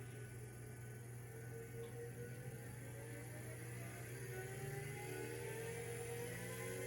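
A SuperMax 25-50 drum sander idles with its drum motor running, a steady low electrical hum with a faint tone that slowly rises in pitch as the drum speed is turned up.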